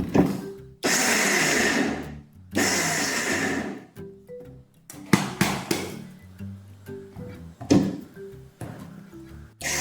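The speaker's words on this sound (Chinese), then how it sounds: "切成小块，方便搅拌机打碎" Peeled garlic cut into small pieces whirring in a blender, with two sustained bursts of loud motor grinding followed by short pulses, rattles and knocks between them, close and with no talk.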